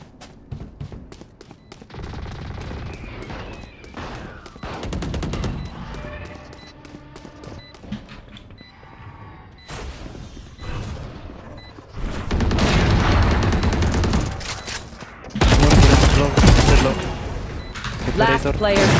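Rapid bursts of gunfire from a Valorant match ring out repeatedly, with volleys growing louder and denser toward the end; a few loud impacts come through in between.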